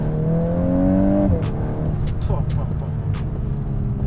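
A Volkswagen Golf 8R accelerates hard, its engine note rising loudly until a gear change, followed by crackling pops and burbles from the exhaust.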